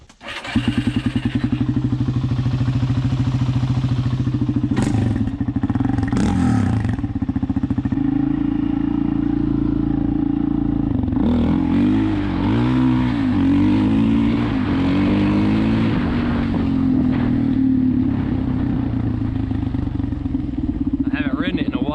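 A 2004 Arctic Cat DVX434 ATV engine runs loud and close during a ride, a continuous droning buzz that rises and falls as the throttle changes, with a few brief thumps.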